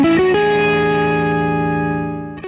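Electric guitar through distortion and effects, with unmuted strings ringing out. A thick sustained chord hangs and slowly fades for about two seconds before a fresh pick attack cuts in at the end.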